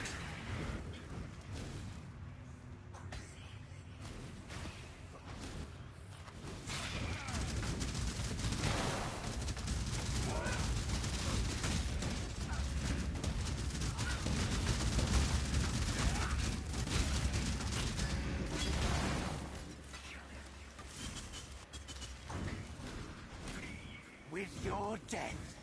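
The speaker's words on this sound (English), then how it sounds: "His enemies are exploding." Enemies burst in chained explosions in Path of Exile as a Raging Spirit build clears a level, a dense, continuous rumble of blasts and crackling impacts under excited talking.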